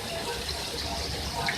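Water is poured into a pot of dhaba-style beef and potato curry gravy, a steady soft splashing and gushing that runs the whole moment, close and fairly quiet with no talking over it.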